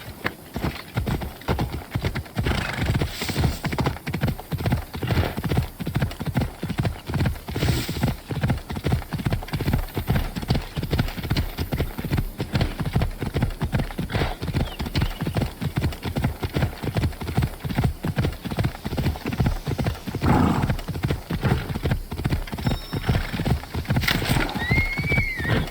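A horse gallops in Assassin's Creed Odyssey, its hoofbeats pounding in a fast, steady, close rhythm that continues unbroken for the whole stretch, with occasional faint whinnies and high chimes over it.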